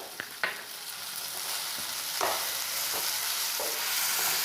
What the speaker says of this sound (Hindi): अदा रसुण ये भजा ही होता बास्नाटा बहुत बढ़िया आसुची